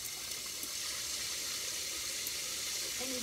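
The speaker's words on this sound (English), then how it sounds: "if I put the water on, you'll see the water coming here" Water runs steadily from a tap down into a drain pipe, a continuous hissing gush heard close up and fairly faint, with no speech.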